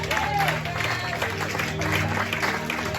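A church congregation applauds during a French-language sermon, a dense wash of clapping held at an even, moderate level for a few seconds.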